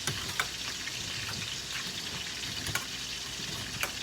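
Grouper fingers frying in a pan give off a steady sizzle while being stirred, with a few faint scrapes and taps of the utensil now and then.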